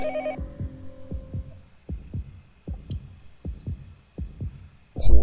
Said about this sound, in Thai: เสียงหัวใจแม่งดังไม่หยุดเลย